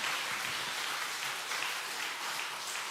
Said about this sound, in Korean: 이지숙 집사님 박수.